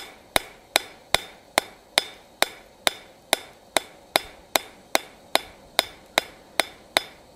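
Hammer blows ring out on hot steel as a spatula is hand-forged and textured, about eighteen sharp metallic strikes in a steady, even rhythm, close and clear with no talk.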